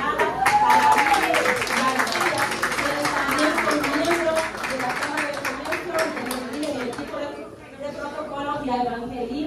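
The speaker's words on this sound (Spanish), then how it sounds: "Por eso le pido un fuerte aplauso para Gisela Tejada" Audience applause at a Dominican Chamber of Commerce USA magazine launch event, steady clapping filling the room throughout and mixed with crowd chatter.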